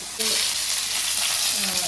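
Hot tempering poured into a pot of cucumber sambar, bursting into a sudden loud, sustained sizzle that stays steady and close with faint stirring clinks.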